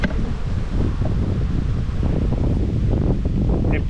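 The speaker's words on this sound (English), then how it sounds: "Wind's picking up a little bit," Wind gusting outdoors around beehives in a spring apiary, a continuous low rumbling buffet with rustling on the microphone, steady and fairly loud throughout.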